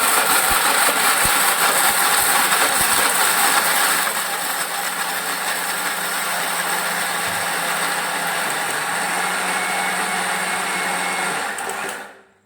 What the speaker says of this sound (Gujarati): હવે આપણે મિક્સર ચડાવશું